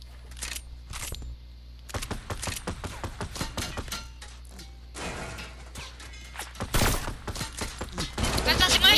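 Sniper gunfire in a squad-based video game rings out as sharp scattered shots and impacts amid busy game effects, with players chatting over it.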